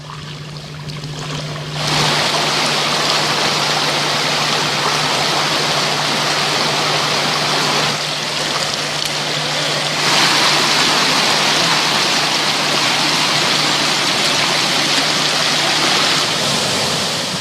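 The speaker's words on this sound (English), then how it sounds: "It's a beautiful creek with miniature waterfalls every kilometre or so." Water rushes steadily over miniature waterfalls in a shallow freshwater creek on Cape York, a continuous loud broadband wash with a faint low hum and no voices.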